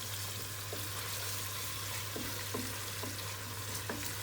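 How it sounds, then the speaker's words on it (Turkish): Potatoes and vegetables sautéing in a pan over lowered heat, a steady close sizzle with faint stirring clicks now and then; continuous, no voices. "Şöyle yavaş yavaş narin bir şekilde sebzelerimi soteliyorum."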